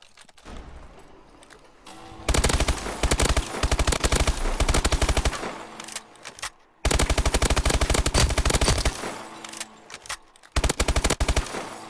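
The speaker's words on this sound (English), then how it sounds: "Obviously, it's a submachine gun, so long range isn't good" A submachine gun fires in Call of Duty: Advanced Warfare, in long rapid full-auto bursts separated by brief gaps, loud and close over quieter game ambience.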